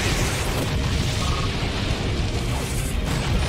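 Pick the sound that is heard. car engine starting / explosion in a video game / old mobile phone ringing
explosion in a video game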